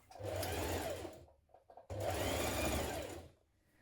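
A sewing machine stitches a double fold hem along the bottom of a children's dress from Simplicity pattern 9281. Two close, steady runs of whirring stitching are separated by a brief pause.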